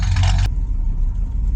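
A 1969 Ford Fairlane engine idles at a low, steady rumble, a loud burst of broadband noise in the first half-second dropping away to a constant deep throb.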